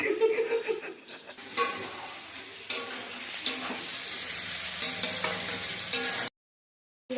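Chilli chicken sautéing in a pan, close stirring and scraping with a soft sizzle, utensils clinking against the pan in irregular strokes before a sudden cut to silence.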